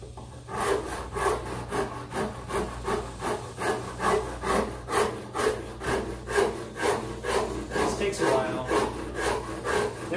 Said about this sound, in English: I like to just hit it with this rasp.